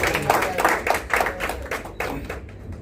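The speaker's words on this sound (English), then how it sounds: "We'll give a loud applause for sir" A small college audience at a debate competition claps in a loose, uneven patter of distinct hand claps that thin out and fade toward the end.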